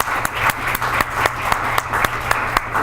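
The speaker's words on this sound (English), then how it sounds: "I'd like to give them an applause for teaching me" An audience applauds the professors at a keynote speech, steady clapping from a crowd that holds at an even level for a few seconds, with no voices over it.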